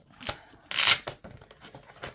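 Paper scraps being handled and rustled in storage sleeves at a craft table, a few short crinkling bursts with one louder rustle in the middle, close by and alone.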